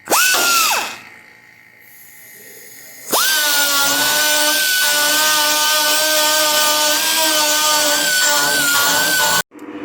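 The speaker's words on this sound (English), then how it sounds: "we'll just come in here and we'll clean up all the edges with the burr." A power burr tool cleans up the edges of a cutout in a car hood, giving a high steady whine that runs briefly, stops, then grinds on continuously for about six seconds before cutting off.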